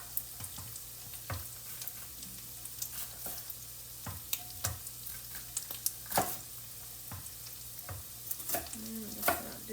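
Ground taco meat browning in a hot pan on a home stove, with a steady soft sizzle and frequent scraping and stirring clicks from a utensil across the whole stretch, moderately quiet and close.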